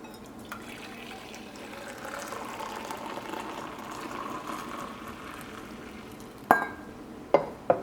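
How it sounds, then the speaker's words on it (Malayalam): Masala chai frothed by pouring it back and forth, a continuous splashing liquid stream that runs for several seconds, then three sharp clinks of vessels near the end. "ഈ ചായ ഒന്ന് പതപ്പിച്ചെടുക്കുക."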